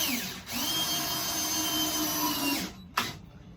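Power drill driving screws into wooden stairs: a sustained whirring drive lasting a few seconds, then a brief second burst, close and fairly loud.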